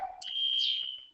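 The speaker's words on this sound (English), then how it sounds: "We're at a hospital and a fire alarm is going off for another building." A hospital fire alarm sounds for another building, a loud steady high-pitched electronic tone that sustains for about a second after a brief lower chirp, with no talking.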